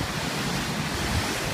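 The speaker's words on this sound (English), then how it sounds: "the waves, they're reflected off and they start traveling against" Water waves bouncing off a wall and running back against incoming waves make a steady, close wash of surf-like noise, with some wind buffeting the microphone throughout.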